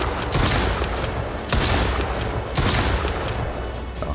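Rapid, continuous gunfire hammers at a berserker in the survival game Mist Survival, loud and dense throughout with bursts of shots running together.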